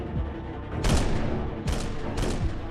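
Three sharp, loud double-barrel shotgun blasts spaced out over a few seconds, each with a booming echo and rumbling tail.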